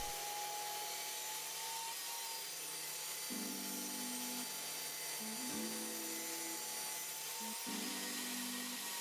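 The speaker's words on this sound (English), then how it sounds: "now I'm cutting in grooves that gonna hold the top boards" Table saw cutting grooves into pallet wood for a garden table, with a steady motor drone and several louder bursts as the blade bites into the boards, close and continuous.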